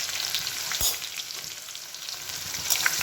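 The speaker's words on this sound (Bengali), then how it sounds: "এবার রসুন কুচি দিয়ে দিয়েছি" Chopped garlic sizzles in hot oil in a pan, a steady crackling fry with a few sharp spits and pops, close and alone without voices.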